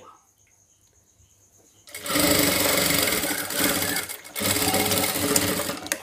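A sewing machine stitches a blouse seam, starting after a quiet pause and running fast and steady, loud and close, with a brief stop before resuming.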